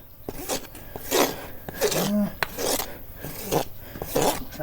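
A farrier files a horse's hoof with a rasp during shoeing. Steady, rhythmic scraping strokes repeat close by at a moderate volume, about ten passes in a row.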